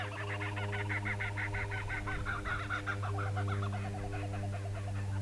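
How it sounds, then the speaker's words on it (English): Kookaburras calling, a long rhythmic cackling chorus of repeated bursts at some distance over a steady low hum, with no talk. "Can you hear the kookaburras?"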